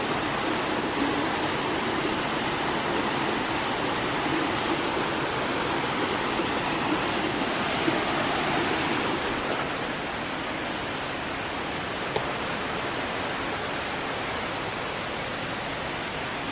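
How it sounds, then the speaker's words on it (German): A waterfall rushes with a dense, constant roar of falling water that stays loud and even throughout, dipping slightly in brightness partway through. "Wer feiert auch diesen Sound vom Wasserfall?"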